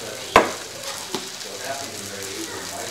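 Korean hotteok sweet pancakes frying in a pan, a steady close sizzle with a sharp clatter near the start and a softer knock after, while a person talks over it.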